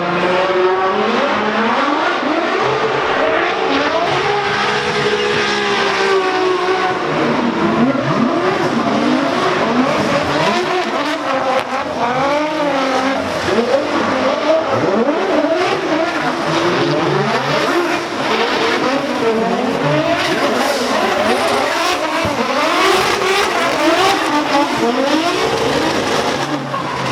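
Drift cars compete at Formula Drift Seattle, engines loading up and screaming through revs with tire squeal and skids, a continuous loud roar of several passing cars heard from trackside without talk.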